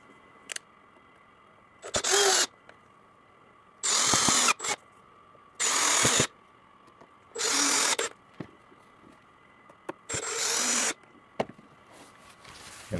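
A power drill drives screws into an acrylic maze kit in five short, loud whirring bursts of about a second each, separated by quiet pauses with faint clicks and handling noises.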